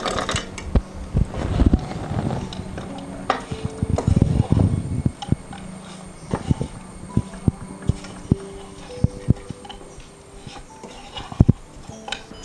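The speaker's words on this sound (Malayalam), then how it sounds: "നമുക്ക് ഫ്രൈ ചെയ്ത ചിക്കൻ നമുക്ക് ഈ സോസിലേക്ക് ഇട്ട് കൊടുത്ത് ഒന്ന് ഇളക്കിയെടുക്കാം" Fried chicken 65 being tossed and stirred into a sauce in a pan, with a steady run of sharp clinks and scrapes of a spoon against the pan, near and fairly loud, with no talking.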